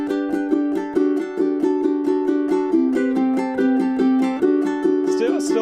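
Ukulele playing a fast, steady strummed passage from a piece, the strumming hand striking the strings on every stroke, bright chords ringing in an even, continuous rhythm, close and alone with no talk.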